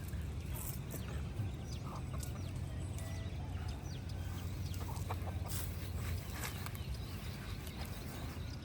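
Chickens cluck faintly amid a steady outdoor background, with a few scattered calls and no talking.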